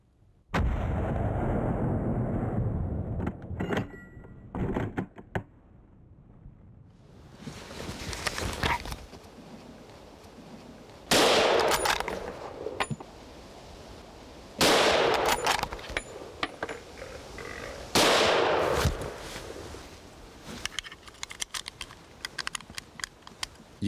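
Rifle gunshots during a wild boar hunt; several loud, sharp reports sound a few seconds apart, each with a trailing echo, alongside clicking and rustling and no talk.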